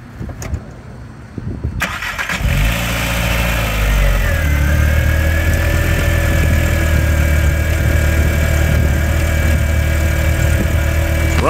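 A VW Mk IV 1.8T engine with upgraded ignition coils cranks, catches and settles into a loud, steady idle close by, with the air pump running and a faint miss in the running, and no voices.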